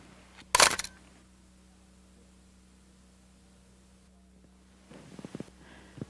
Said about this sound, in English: go ahead and click your shutter